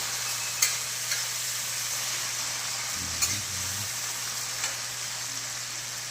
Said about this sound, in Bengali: টমেটোটা ভালো করে কষিয়ে দেব।